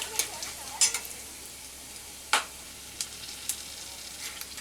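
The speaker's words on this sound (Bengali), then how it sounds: "ছোট ছোট টুকরো করে ওই 6-7টা দারচিনি দিয়ে একটু ভেজে নেব।" Whole cardamom pods, cloves and small pieces of cinnamon fry in hot oil for a green jackfruit dal, giving a soft, quiet sizzle with scattered small pops and crackles.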